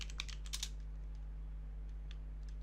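Rapid clicks of fingers typing on a computer keyboard, a quick cluster of keystrokes followed by scattered lighter taps, close and crisp over a steady low electrical hum.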